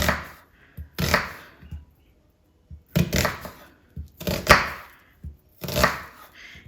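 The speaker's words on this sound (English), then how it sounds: "So I'm just going to cut the onion for now" An onion is cut with a kitchen knife on a board, giving a handful of separate, irregularly spaced chopping thunks with quiet gaps between them, close and fairly loud.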